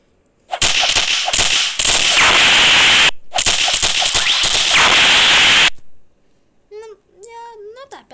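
Melee strikes from a Deva-Rengoku character in the Roblox game Shindo Life, loud dense bursts of whooshing impacts in two long flurries, followed by brief chirpy game effects.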